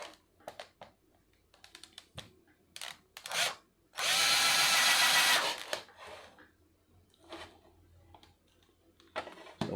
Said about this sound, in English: You're just gonna drill right in the center